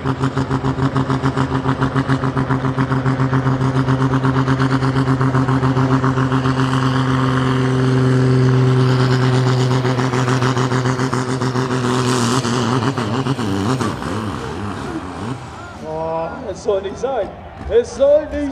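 A pulling tractor in the 3.6-tonne super sport class at a farm pulling competition in Füchtorf, its engine roaring in a loud, steady droning pull for about twelve seconds, then the roar breaks up and falls off into sputters, with a commentator talking over it.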